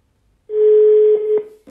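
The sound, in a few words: telephone dialing tones of an outgoing call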